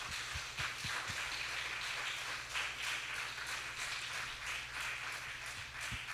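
A church congregation applauds together, a faint, distant wash of steady clapping that lasts several seconds over a low background hum.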